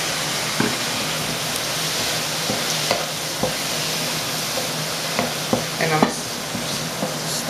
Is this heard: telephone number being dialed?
no